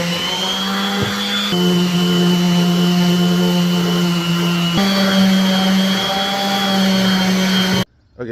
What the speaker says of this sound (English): I just used the orbital sander just to get the peaks